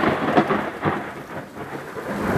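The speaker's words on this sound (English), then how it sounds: "Raining hard some more." Heavy rain pours steadily while rumbling thunder rolls beneath it, the downpour loud and close with no voices.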